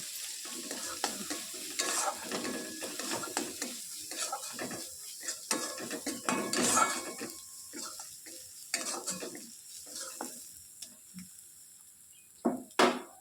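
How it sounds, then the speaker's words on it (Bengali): Ground cumin, coriander and garam masala are stirred and fried in a pot, giving a steady sizzle with frequent close clinks and scrapes of the spoon against the metal. "এবার আমি সব মশলাটাকে ভালো করে কষিয়ে নেব।"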